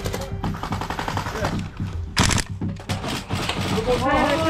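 Rapid airsoft gunfire during an outdoor game, bursts of close popping shots with shouting voices over and between them.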